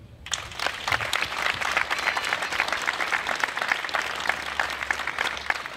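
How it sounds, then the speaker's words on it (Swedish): An indoor audience at the 2017 inauguration of Torskolan, a new school in Torsås, breaks into sustained, even applause from many hands, loud and continuous throughout. "Det är värt en applåd."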